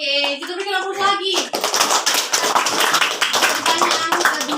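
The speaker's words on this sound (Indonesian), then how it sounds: "kita berikan aplaus lagi" A voice speaks briefly, then a class of students bursts into loud, sustained group clapping that carries steadily to the end, a school science demonstration on making a cloud in a glass.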